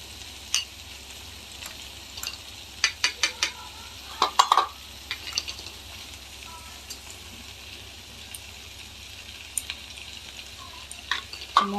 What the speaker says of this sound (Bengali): এবার নাড়বো, এর সাথেই নেড়ে নেড়ে একটু ভাজা ভাজা করব।